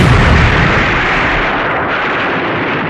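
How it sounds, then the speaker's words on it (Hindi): A loud, sustained explosion from a train accident in Odisha, a heavy roaring blast of broadband rumble that stays strong for about three seconds and eases only slightly, with no voices. "एक जोरदार धमाका हुआ।"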